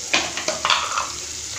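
Salted onions fry toward golden brown in a pan for traditional village-style chicken biryani, giving a close, steady sizzle with a few stirring scrapes near the start.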